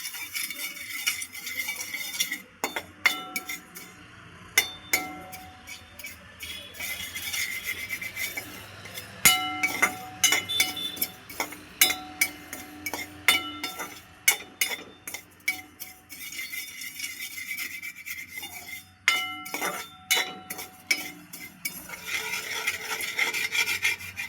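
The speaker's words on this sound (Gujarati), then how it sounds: "હળદર થોડી અને મીઠું એડ કરીશું. બધું સારી રીતે મિક્સ કરી દઈશું." Mukhwas seeds are mixed with turmeric and salt in a pan. A spoon rasps and scrapes repeatedly against the metal, with irregular strokes and occasional clinks, close and fairly loud and without speech.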